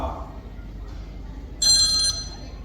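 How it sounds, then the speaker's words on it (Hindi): A phone rings with an incoming video call during an indoor comedy skit, giving one short, loud electronic ringtone burst that rises above a low room murmur. "अरे एक मिनट, एक फोन आ रहा है।"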